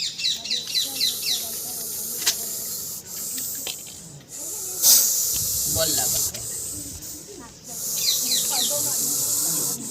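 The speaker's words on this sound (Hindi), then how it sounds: "तो इस सांप की फुफकार आप सुनिए ज़रा।" A Russell's viper hisses in a series of breathy bursts during a rescue in a residential settlement, with birds chirping and faint background activity around it.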